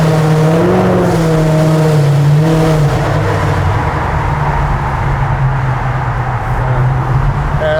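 A car engine revs and accelerates hard with a rising, strained drone, loud and close throughout, steady with no speech over it.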